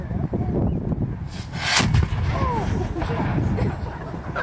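A historic muzzle-loading cannon booms once in the open air, a broad heavy blast with rumbling tail, heard under loud crowd noise and shouted commands.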